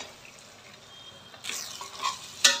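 Flattened rice (poha) goes into a pan with potatoes and peanuts and is stirred, a short quiet hiss followed by a brief louder sizzle and scraping at close range.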